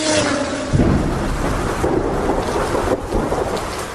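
A heavy rumble of thunder rolls over steady, dense rainfall, loud and close, with a second crack of thunder near the end.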